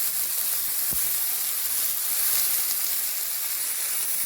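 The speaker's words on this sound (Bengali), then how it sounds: "আমি যেহেতু ঘেরাটাকে খুব হাই ফ্লেমে ভাজছি" Ghera fish frying over a high flame in a pan, a steady close hiss and sizzle with no talk.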